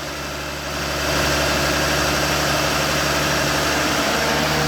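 A car engine is revved up to hold around 1,500 rpm while the AC compressor runs during recharging. The low hum rises after a second, then settles into a steady, loud mechanical drone.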